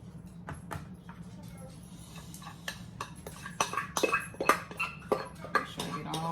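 Potato salad scraped and spooned from a bowl into an aluminum pan, making a run of light clinks and taps that grow busier and louder toward the end, with a low hum underneath.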